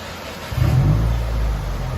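A 2020 Subaru WRX with dual exhaust and a muffler delete gives one brief, deep, rumbling rev that settles into a steady low drone.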